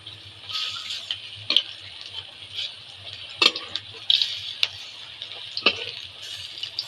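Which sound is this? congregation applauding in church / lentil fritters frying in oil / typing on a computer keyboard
lentil fritters frying in oil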